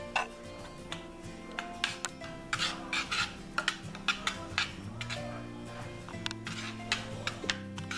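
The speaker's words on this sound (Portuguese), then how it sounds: "vou misturar mais um pouco até isso ficar bem gostoso" A spoon stirs chocolate ganache of cream, semisweet chocolate and condensed milk in a bowl, with repeated clinking and scraping taps against the bowl over a steady busy kitchen background.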